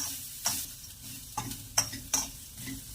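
Grated coconut roasting in a pan: a soft, dry sizzle broken by four or five distinct spatula scrapes and taps against the pan, quiet and close with no speech.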